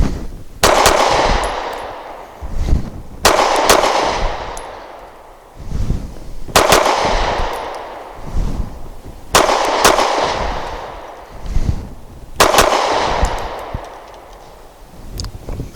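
A Sig P365 SAS pistol fires five sharp, loud pairs of shots outdoors, each double report ringing briefly before a pause of about three seconds.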